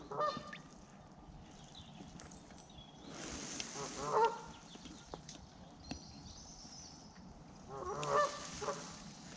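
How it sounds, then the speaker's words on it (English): A duck calls beside a fishing swim during a live match fishing session, with a few loud honking quacks in bursts over steady outdoor background noise. "Get away, duck."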